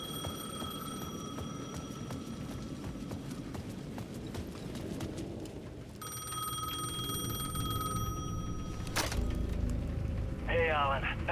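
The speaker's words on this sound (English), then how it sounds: "The payphone at the edge of the plaza was ringing again." A payphone at the edge of a plaza rings in Alan Wake 2's Dark Place, bright repeated electronic trills standing out over steady clopping footsteps and low ambient noise, fairly faint overall.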